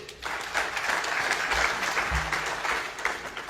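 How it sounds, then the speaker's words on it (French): An audience at the closing ceremony of a national political dialogue breaks into applause, a dense, even wash of many hands clapping together at moderate loudness for several seconds. "Merci de les applaudir, s'il vous plaît."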